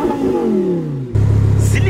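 A car with a new aftermarket exhaust revs, its engine note sliding down through a deep drone, then dropping into a loud, throbbing low idle rumble heard close up.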